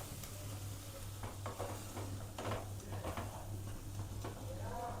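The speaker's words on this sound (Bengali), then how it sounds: "এইভাবে মশলাটা আপনারা 5 থেকে 7 মিনিট একটু ভালো করে হালকা আঁচে" Spice masala for an egg and potato curry is stirred and fried on low heat in a pan. A steady soft sizzle runs under close scraping strokes of the spoon against the pan.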